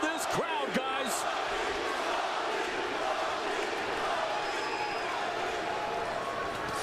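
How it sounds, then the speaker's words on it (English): A loud arena crowd roars steadily at a Strikeforce MMA fight featuring Cung Le, a dense, sustained wash of cheering and shouting with a few sharper bursts near the start. "Listen to this crowd, guys."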